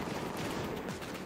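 Bolt gun firing in the Warhammer 40K Boltgun retro pixel shooter, a steady stream of rapid, quiet shots rattling continuously like automatic gunfire.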